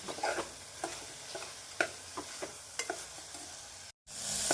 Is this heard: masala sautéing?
yes